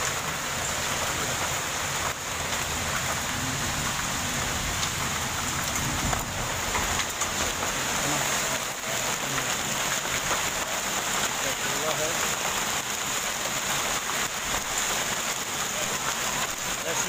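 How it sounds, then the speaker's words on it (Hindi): A heavy hailstorm in Delhi with large hailstones, heard as a dense, constant roar of pelting ice and rain on surfaces, loud and unbroken throughout. "ये हम कह सकते हैं कि दिल्ली में बर्फबारी हुई, इतना मोटा मोटा ओला पड़ा।"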